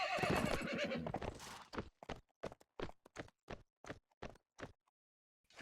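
A horse whinnies and snorts loudly in a video game, then a steady run of distinct hoof clops follows, evenly spaced and isolated against near silence.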